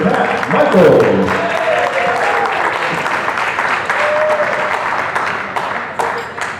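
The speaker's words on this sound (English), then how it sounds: "for the next round of applause, please, for one of your best man" Wedding guests applauding the best man at a ceremony and speeches, sustained loud clapping from a room full of people with cheers and voices mixed in, tapering slightly toward the end.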